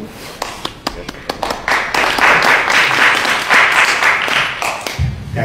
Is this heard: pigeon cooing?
no